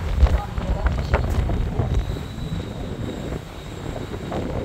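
Strong, cold wind blows outdoors on an exposed walkway, a loud, buffeting rush with low gusty rumbles hitting the microphone throughout.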